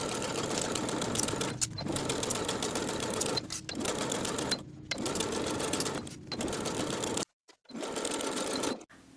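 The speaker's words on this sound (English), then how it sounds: "I'm going to edge stitch close to my finishing stitches all the way around the bottom of the shorts." A sewing machine runs steadily while edge stitching around the hem of a pair of shorts, a close, continuous whir broken by brief pauses and a short stop near the end.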